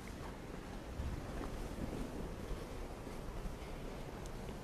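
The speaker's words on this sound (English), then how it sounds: "I'm going to give you a couple of seconds here of nothing but listening to the ocean." Ocean waves at the cliffs of Ragged Point wash and rumble in a continuous broad roar under heavy wind buffeting the microphone, with no talking.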